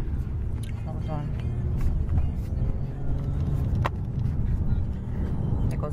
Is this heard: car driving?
yes